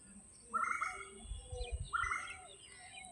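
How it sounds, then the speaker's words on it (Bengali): An Asian koel calling outdoors on a breezy misty morning, two clear rising calls about a second and a half apart, moderately distant, with faint low background rumble. "কোকিলের কুকু ডাক"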